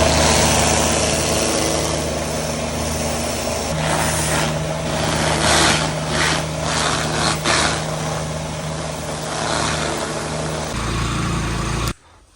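A farm forklift engine runs at a steady, loud idle close by, a continuous low drone that holds evenly and then cuts off abruptly near the end, with no speech.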